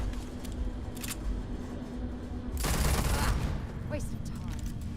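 Weapon fire in the Starfield video game, heard as one loud burst of close shots about midway through over a constant background hum, with faint game sounds before and after.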